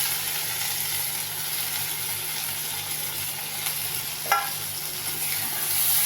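Fried okra with tomato and plenty of garlic is stirred in a pan, a continuous sizzle with steady scraping and one brief clatter, close and fairly loud.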